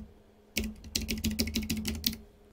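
A rapid run of close, crisp keystrokes on a computer keyboard as a meeting ID is entered, about a dozen clicks in two seconds after a brief quiet start.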